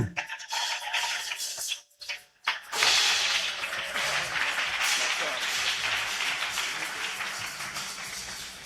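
A church congregation bursts into loud, sustained applause for Jesus Christ, clapping filling the hall for several seconds after a few sharp, scattered claps and brief voices at the start.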